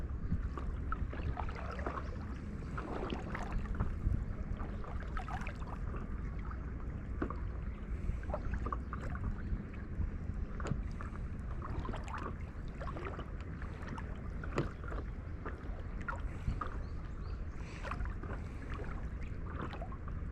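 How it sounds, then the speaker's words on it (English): Steady wind rushes and buffets across open water on Lake Biwa, heard from a small fishing boat, with a constant low roar and intermittent gusty thumps on the microphone throughout. "Here comes the wind."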